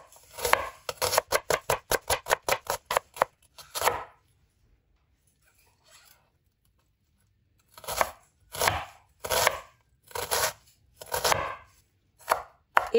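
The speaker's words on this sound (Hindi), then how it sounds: "अब प्याज की करेंगे कटिंग" A knife chops an onion on a board in a fast run of crisp taps, then stops for a few seconds before slower, spaced chops resume, close and clear with no talking.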